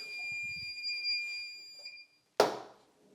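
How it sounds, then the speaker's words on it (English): A steady high-pitched electronic alarm tone from a desktop DTF curing oven timer sounds for about two seconds, then stops, followed by a sharp louder burst of noise. "the oven will set off an alarm to let you know the print is ready."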